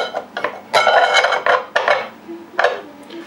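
A 22 cm Myron Cook HE 912 cast iron frying pan and its detachable handle clank and scrape as they are set on and lifted off a kitchen scale, a series of close, sharp metallic knocks with short pauses between them.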